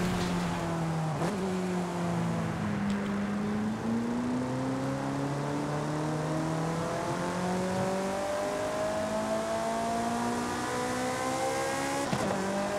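A Ferrari F430 Scuderia in Forza Horizon 5 revs hard, its engine note climbing through the gears with brief breaks at each shift, loud and steady with no talk.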